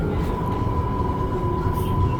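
A light rail train in Israel rolls along with a steady low rumble and a sustained electric motor whine, heard from inside the carriage as a continuous, fairly loud ride noise.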